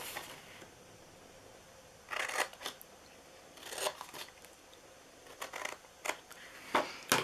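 Scissors snip through paper flaps for a handmade gift box, with several short crisp bursts of cutting and rustling spaced out over quiet pauses, close by.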